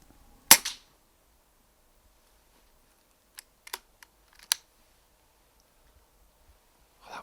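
An air rifle fires once during a night-time rat hunt, a single sharp close crack, followed later by a few quieter mechanical clicks from the rifle, with silence in between.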